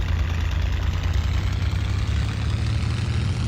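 Steady low droning engine of a Hawker Hurricane fighter plane taxiing in a flight simulator game, a constant rumbling idle with no pauses, heard alone.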